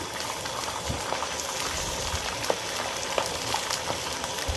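Steady hissing bubble of hot oil frying raw anchovies, a dense continuous boil with small pops, close and loud, no talking.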